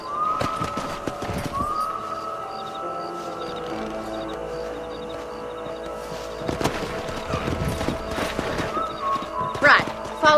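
Rhythmic clip-clop of a horse's hooves in the video game Red Dead Redemption, with occasional snorts and whinnies under a musical score, while characters talk over the riding.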